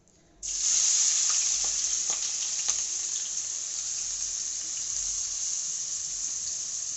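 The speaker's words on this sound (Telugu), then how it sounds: "ఆనియన్స్ బాగా వేగాలి." Chopped onions hit hot oil in a pan for an East Godavari smoked fish dish, setting off a sudden loud sizzle that settles into a steady, close hiss with faint crackles and no talking.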